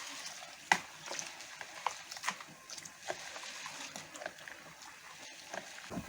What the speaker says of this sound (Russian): если вот так прожарится лук, значит масло готово